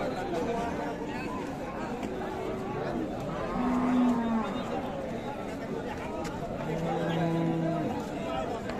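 Cattle moo at a crowded market, several low drawn-out calls from a Sahiwal cow and her bull calf rising over constant chatter and crowd noise.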